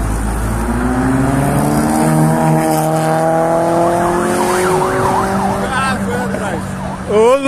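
A police siren wails close by over car engine noise, loud rising and falling tones sweeping for several seconds before switching to a faster yelp near the end.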